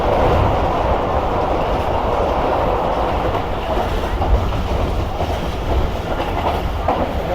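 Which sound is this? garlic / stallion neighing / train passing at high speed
train passing at high speed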